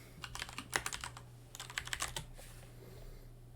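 Quick bursts of computer keyboard clicking, fairly quiet and close, in two clusters of rapid keystrokes over a low steady hum, with a short pause between the clusters.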